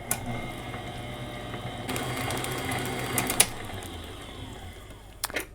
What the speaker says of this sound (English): This is a Hamilton Beach stand mixer